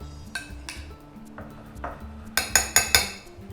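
Baby corn tossed in marinade in a bowl gives scattered clinks and taps of a utensil, ending in a quick run of four sharp knocks against the bowl.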